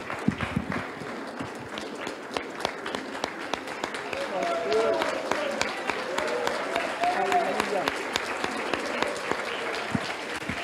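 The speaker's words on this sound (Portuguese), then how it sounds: "Senta aplaudindo a Jesus" Church congregation applauding Jesus during a worship service, a dense, steady wash of many hands clapping together for about ten seconds, with sharp individual claps standing out and voices murmuring underneath.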